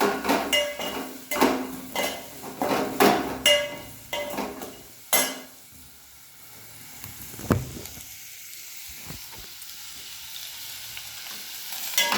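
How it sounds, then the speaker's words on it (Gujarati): Capsicum and onion frying in a little oil, loud sizzling with spoon scrapes and clanks against the pan in the first half, then a quieter simmer with occasional knocks. "આ રીતે વેજીટેબલ થોડા તેલમાં ફ્રાય કરી લેવાના."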